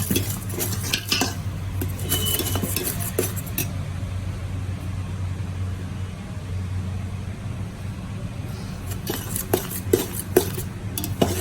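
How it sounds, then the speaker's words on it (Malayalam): Semolina and grated coconut roasting in a pan for sooji laddu, stirred continuously with a spoon that scrapes and clinks against the metal over a steady low hum, with busier bursts of scraping at the start and near the end. "ഇളക്കി കൊടുത്തോണ്ടേ നിൽക്കും, അല്ലെങ്കിൽ അടി പിടിച്ചു പോകും."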